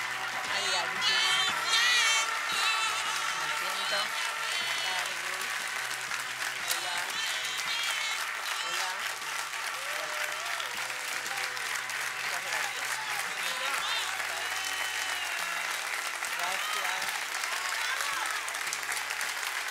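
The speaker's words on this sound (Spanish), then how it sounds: "un fuerte y un gran aplauso a Estela de Carlotto" An audience claps at length to welcome Estela de Carlotto, a dense, sustained round of applause heard from within the hall, with some voices and music-like tones faintly mixed in.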